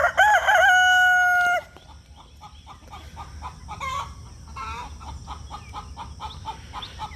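A rooster crows loudly and close, then several chickens cluck and chatter softly in the background.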